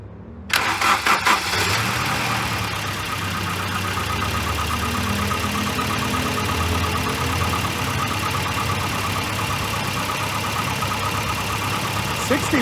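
A manual five-speed Volvo 240 wagon engine cranks briefly, fires and settles into a steady, fairly loud idle that runs for the rest of the stretch.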